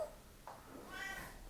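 A small pet kitten gives a soft, short meow at close range in a quiet room, with faint background noise and no talking.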